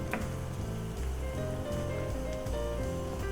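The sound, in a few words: sauce simmering in pan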